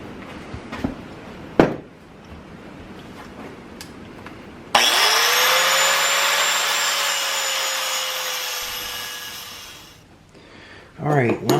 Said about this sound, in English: We're going to cut it in half, so we have two nice little pieces of steel